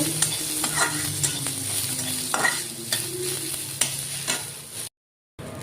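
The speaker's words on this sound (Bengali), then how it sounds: "হালকা অল্প তেল দিয়ে ভাইজা নিতেছি" Onion, green chili and garlic fry in a little oil with a close crackling sizzle, broken by repeated scraping stirs and clinks. The sound cuts to silence briefly near the end, then returns.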